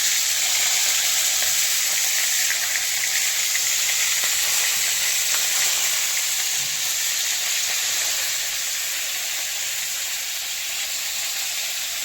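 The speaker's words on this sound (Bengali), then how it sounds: "এখন ম্যারিনেট করে রাখা আলু আর ফুলকপিটা ভেজে নেবো।" Marinated potatoes and cauliflower fry in an iron wok, giving a steady, loud sizzle with a bright hiss that runs unbroken and fades slightly toward the end, with no voices over it.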